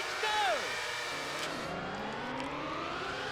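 Formula One 99 video game race start: a car engine revs and climbs in pitch as the field launches, with a quick sweeping rev near the beginning, moderately loud and continuous.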